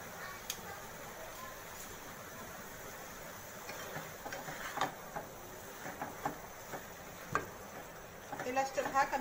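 Carrot halwa with spices fries quietly in a pan, giving a faint low sizzle broken by soft scrapes and taps of stirring that grow more frequent toward the end.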